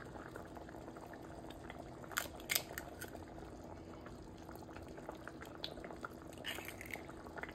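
Soft, steady bubbling of an egg drop curry simmering on low flame in a pot on the stove, with a few brief sharper pops and hisses rising over the continuous low burble.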